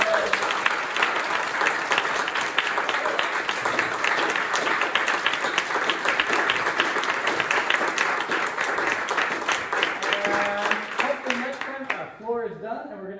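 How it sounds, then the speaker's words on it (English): Audience applause for performers at a school Christmas recital, sustained clapping from a room of people for over ten seconds, fading as a voice begins speaking at the end. "one more hand of applause for all of our performers."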